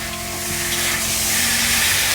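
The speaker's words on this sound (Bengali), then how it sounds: "আলুটা আমার ভাজা হয়ে গেছে।" Potatoes fry in a pan with a loud, continuous sizzle and spitting hiss that swells slightly over the short stretch, with no voices.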